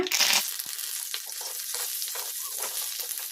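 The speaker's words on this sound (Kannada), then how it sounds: "ಫ್ಲೇಮು ಮೀಡಿಯಮ್ ಫ್ಲೇಮಲ್ಲಿ ಫ್ರೈ ಮಾಡ್ಕೋಬೇಕು. ಕರಿಬೇವು ಹಾಕೋಣ." Curry leaves crackle and sizzle in hot oil over a medium flame, a sharp burst at first that settles into steady frying with light stirring.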